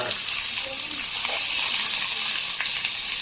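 Onions sizzle steadily in a hot pan, a continuous crackling hiss with occasional stirring and a voice faintly underneath.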